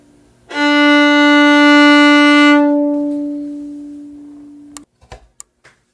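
One clear, full bowed viola note with a warm, steady tone, sustained for a couple of seconds and then ringing out slowly, followed by faint clicks.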